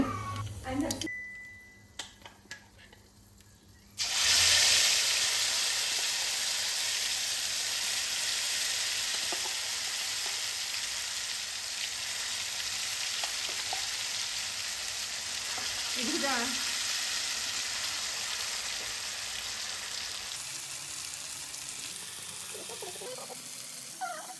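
Food sizzling and frying in mustard oil in a home kitchen, a steady hiss that jumps in sharply after a few seconds of quieter clatter and keeps going, with faint speech now and then.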